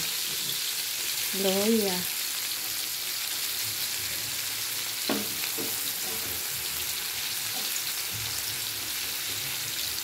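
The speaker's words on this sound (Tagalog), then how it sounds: "Nagisa na natin ang ating ricado." Ginger and other aromatics sautéing in a pan for fish escabeche, a loud continuous sizzle with a few brief scraping stirs and a short tonal squeak, no talking.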